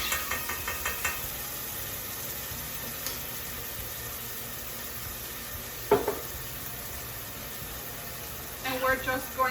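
Sofrito Italiano stirred in a hot pan for chicken marsala, with a faint steady sizzle, light scraping and knocks of the spoon, and a few sharper clatters, while a person talks.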